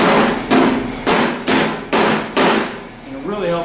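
A hammer taps dents out of a body panel on a 1973 Oldsmobile Omega, delivering six loud, sharp metallic blows about every half second, each ringing briefly before the next.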